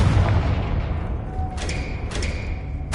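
A Confringo fire spell from Hogwarts Legacy goes off as a dull booming thump over dense rumbling game noise, followed by a couple of brief bright crackles.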